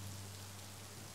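Steady rain falls in an even, unbroken hiss, faint and diffuse, over a low constant hum, with no voices.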